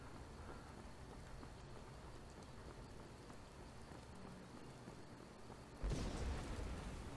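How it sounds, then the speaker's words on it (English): Steady rain falls throughout a thunderstorm in the video game Skyrim, a dense continuous hiss that swells louder near the end as the storm builds, with no voices. "And now it's raining."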